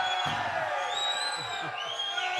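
A congregation at a church service cheers and whoops, a dense crowd roar with shrill high calls rising over it, continuous and moderately distant.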